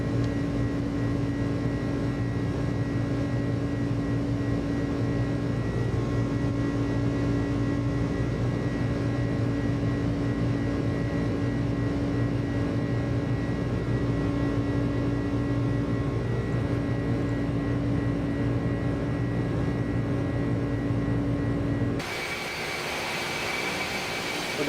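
An iniBuilds A300-600F cargo airliner flying in Microsoft Flight Simulator 2020 produces a steady, loud cabin drone of engine hum with fixed tones throughout, shifting abruptly in character near the end.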